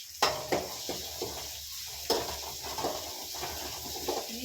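Curry leaves and aromatics fry in a pan for egg fried rice, giving a soft continuous sizzle. Intermittent scraping and clinking of a spoon against the pan come as the food is stirred.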